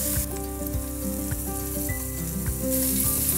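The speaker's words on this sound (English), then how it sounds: "I'm gonna go fat side down just to get a good hard sear." Pork sears fat side down in a hot, oiled pan, giving a steady, close sizzle with crackling pops and spatters throughout, and no voices.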